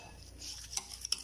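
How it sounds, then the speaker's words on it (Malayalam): A spoon stirs sugar into chopped watermelon for a watermelon drink, making a brief scrape and a few light, close clinks against the bowl. "ഈ പഞ്ചസാരയും വത്തക്കയും കൂടി ഒന്ന് നന്നായിട്ട് ഇളക്കി യോജിപ്പിക്കുക."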